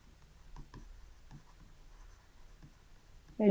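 Pen or marker writing out a math solution, with soft scattered scratchy strokes and taps close to the microphone in a quiet room, ending in a sudden louder burst.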